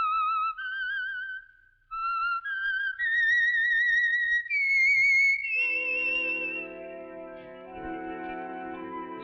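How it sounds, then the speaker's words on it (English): The Signal Oil radio program's signal whistle, a clear whistled melody, rises in short stepped notes, then a sustained orchestral chord swells beneath it, loud and close. "Let that whistle be your signal for the Signal Oil program"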